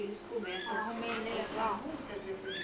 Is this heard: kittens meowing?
yes